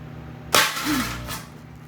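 A lightbulb bursting inside a running microwave oven gives one sharp, loud crack over the oven's low hum, followed by a short fading rattle.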